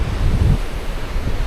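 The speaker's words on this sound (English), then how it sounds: "Gotta deal with the wind." Wind at a beach on Maui blows into the microphone as a brief, loud, low rumbling buffet, with a faint wash of surf beneath it.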